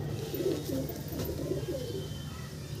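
Pigeons in a loft coo in soft, low repeated phrases over a steady background hum, fairly close and continuous, with no voices.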